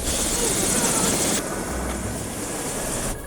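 Helicopter over New York, a loud steady rotor and engine roar heard up close, the tone shifting partway through, with no talk over it.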